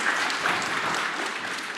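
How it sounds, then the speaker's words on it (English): An audience at a university pitch competition finale breaks into applause, a dense, even burst of clapping heard from a short distance. "Big round of applause for Sven."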